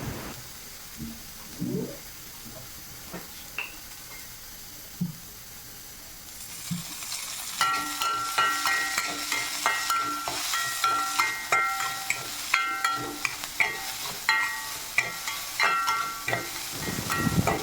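Chopped vegetables for a vegetable kurma are sautéed in a pan. It starts quietly with a few scattered knocks, then a dense sizzle and rapid clicky stirring scrapes take over for the second half.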